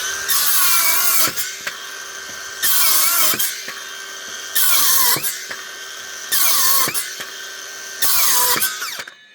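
Saw blade cutting through soft linden wood in five bursts of rasping strokes, each lasting about a second and a half, separated by brief pauses, close and loud with no talk.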